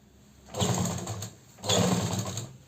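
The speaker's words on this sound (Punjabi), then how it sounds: "ਅੱਜ ਮੇਰੀ ਮਸ਼ੀਨ 'ਚ ਤੁਸੀਂ ਗੌਰ ਰੱਖਿਓ ਵੀ ਅੱਜ ਆਵਾਜ਼ ਘੱਟ ਕਰ ਰਹੀ ਹੈ" Sewing machine stitching the neckline of a suit, two short bursts of close whirring mechanical running separated by a brief pause.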